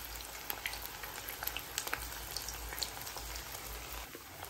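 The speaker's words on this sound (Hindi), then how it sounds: "चिकन के पीसेस डालने के बाद मीडियम फ्लेम पर 1 से 2 मिनट के लिए इसे ऐसे ही फ्राई होने दें।" Chicken pieces frying in oil over a medium flame, a steady faint sizzle with scattered small pops and crackles, no talking.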